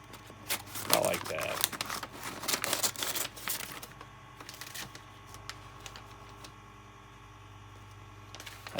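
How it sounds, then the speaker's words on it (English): Butcher paper crinkles and rustles in a series of close, crisp handling bursts, mixed with a person's talk, before the room goes fairly quiet with a low hum. "We'll go ahead and cut our butcher paper."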